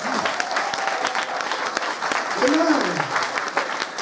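A church congregation applauds in a steady, full burst of clapping while a voice speaks over it.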